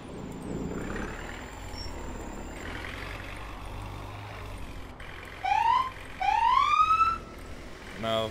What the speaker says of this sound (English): this siren will get a little irritant after a little bit, so I'm not going to run it too long